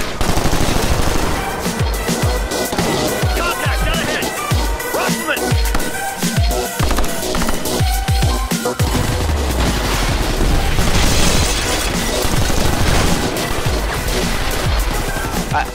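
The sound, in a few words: gunfire in a co-op shooter video game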